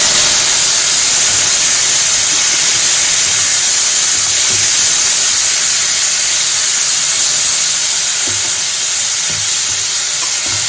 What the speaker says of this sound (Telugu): ఈ మసాలా అంతా బాగా పట్టడం కోసం కొద్దిగా వాటర్ వేసుకుంటానండి.